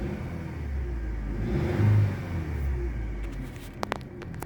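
A Daewoo Gentra with a 1.5 litre engine running on gas revs steadily with a low rumble, rising briefly in the middle, followed by a few sharp clicks near the end.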